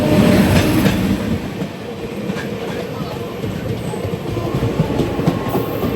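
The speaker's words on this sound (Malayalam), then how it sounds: "ഇപ്പോഴാണ് ഒരു എക്സ്പ്രസ് ട്രെയിനെ കണ്ടത്." An express train rolls past with a heavy, continuous rumble and faint rhythmic clacking of the wheels. The sound stays loud and close throughout.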